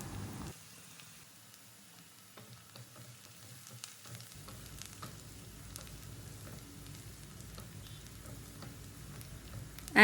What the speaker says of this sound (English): We'll saute this well again until the onion, ginger, garlic are well fried and the raw taste goes away